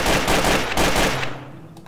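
Rapid, continuous minigun fire in Garry's Mod, loud and dense with a sustained roar that drops off abruptly near the end, leaving a faint hum.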